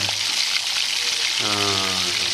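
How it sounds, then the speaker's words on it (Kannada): Sliced onions dropped into hot oil for tomato bath and stirred, giving a steady bright sizzle throughout, with a low tonal hum and a harmonic whine joining in the second half. "ಈರುಳ್ಳಿ ತಗೊಳ್ಳಿ ಎಣ್ಣೆ ಬಿಸಿ ಹಾಕಿದ ತಕ್ಷಣ ಹಾಕಿ ನೋಡಿ ಹಾಕಿ ತಿರ್ಸಿ ಚೆನ್ನಾಗಿ ಫ್ರೈ ಆಗಬೇಕು"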